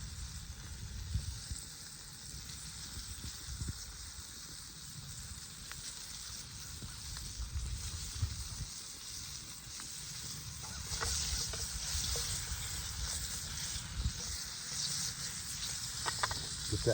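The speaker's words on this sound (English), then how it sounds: "Get that frying up good." Parboiled, seasoned squirrel meat fries in grease in a pan with a steady, soft crackling sizzle that swells slightly toward the end, with no talking over it.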